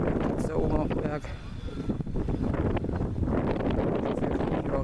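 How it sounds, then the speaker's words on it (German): Strong wind on the island of Sylt buffets the microphone with continuous rough roaring gusts, while someone talks over it. "Ganz schön windig hier."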